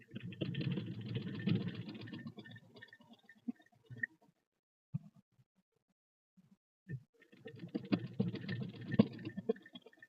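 Sewing machine stitching elastic onto fabric, two close bursts of steady motor hum and needle clatter separated by a quiet stretch with a few isolated clicks.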